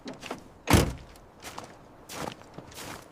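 Someone handles the rear door of an abandoned Ford Taunus police car pulled from a swamp, making one sharp metallic thunk followed by softer knocks and scrapes nearby.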